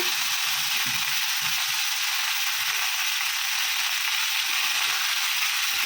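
Cumin seeds sizzle steadily in hot oil, a loud dense hiss that stays constant throughout with faint stirring underneath.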